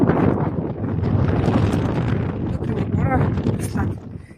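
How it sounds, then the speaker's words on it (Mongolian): Strong wind buffets the microphone in a loud, continuous roar, with brief higher sounds breaking through near the end. "Өнөөдөр ч гэсэн ер нь аюу салхитай."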